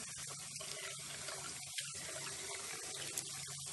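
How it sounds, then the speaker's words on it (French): A tap runs into a sink with warm water for washing the face, a soft continuous splashing flow with small irregular spatters and gurgles, heard fairly close and quiet. "je lave avec de l'eau tiède, un peu chaud, pardon"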